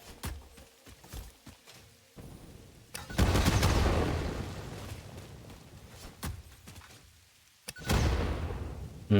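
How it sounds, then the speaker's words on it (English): Explosions and gunfire in an open-world exploration video game: scattered sharp shots early on, then two loud, long rumbling blasts that swell and slowly fade, heard alone without talk. "Just hearing explosions everywhere."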